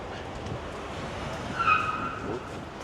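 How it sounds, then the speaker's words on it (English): A car's tires briefly squeal on a road in Albania, a short high-pitched screech rising over steady traffic and engine rumble, heard from inside or near a moving vehicle. "Yeah, you can hear those tires squeal."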